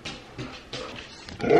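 A husky dog whimpers and whines in short bursts in a car before setting off, ending in a louder, rising cry.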